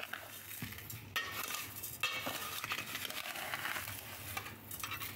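Stirring strawberries with half a kilo of sugar in a pot for homemade jam, with a steady scraping and soft clinking of a spoon against the pan throughout, fairly close and continuous, no talk.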